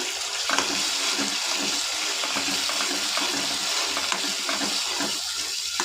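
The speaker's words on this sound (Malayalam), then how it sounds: "ശർക്കര നീര് നമുക്ക് ഒഴിച്ചു കൊടുക്കാം" Jaggery water poured into a hot pan, setting off a loud, steady sizzle and bubbling hiss that runs unbroken throughout, close up with no talking.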